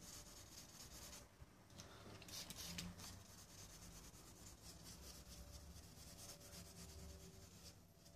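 Wet sanding on a BMW X5's painted surface with 2000-grit wet-and-dry paper gives a steady, close scrubbing rub that carries on without a break, with a few brief brighter swishes partway through.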